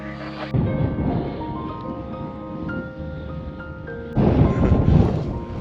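Steady wind rumbling and buffeting a microphone outdoors on a steep slope above the Sluch River, with two stronger gusts at the start and end.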